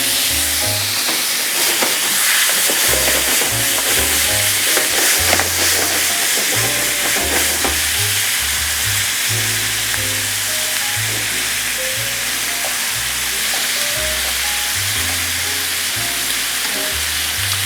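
Asian garlic shrimp sizzling in a very hot sauté pan, a loud, steady frying hiss with crackles and stirring that runs the whole time, without talk.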